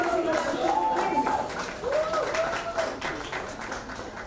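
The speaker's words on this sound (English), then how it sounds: "Round of applause for Sir." Applause from an audience at a fashion award event, steady clapping running through the whole stretch beneath a voice speaking loudly over it, the clapping thinning slightly toward the end.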